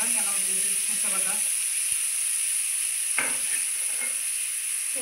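Ground mustard and spice paste fries in a pan with a steady, close sizzle that runs throughout, broken by a few soft stirring scrapes and clinks; a voice speaks briefly in the background.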